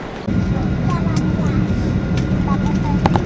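Inside an airplane cabin in flight, a steady low engine roar and air rush fill the space, with a few faint clicks and tones on top, while people talk over it.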